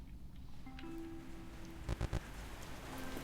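Steady rain patters on surfaces near a cave fishing spot in a fishing video game, a soft constant wash with a few brief louder clicks and a faint tone underneath.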